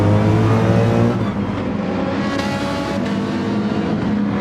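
Several DTM race car engines roar loudly and continuously in Gran Turismo 7 at the Nürburgring, with a low engine drone shifting pitch as cars brake and accelerate close together, a brief surge near the middle.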